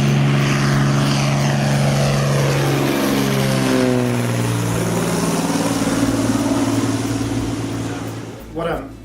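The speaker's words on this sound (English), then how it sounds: "heo and I walk down to see Andy fly off, and we watch him go up the airstrip, and then as the plane goes overhead" A propeller airplane climbs away from an airstrip and passes overhead, its loud engine drone sliding downward in pitch as it goes by, then fading with a brief rustle at the end.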